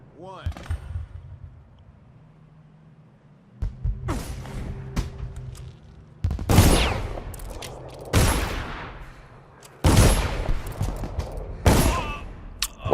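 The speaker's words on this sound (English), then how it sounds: "And he's gonna keep shooting at me." Enemy gunfire in the Dishonored video game: several loud, sharp shots at uneven intervals, each with a burst and a short decaying tail, over low background hum and game ambience.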